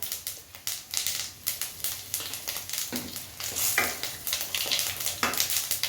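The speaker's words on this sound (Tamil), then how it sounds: "கட் பண்ணி வச்சுருந்த வெங்காயம், சின்ன வெங்காயம் அதையும் சேர்த்து வதக்கிடுவோம்." Mustard seeds, peanuts and small shallots fry in hot oil, a close crackling sizzle broken by a string of sharp rapid pops and stirring scrapes, fairly loud and with no speech.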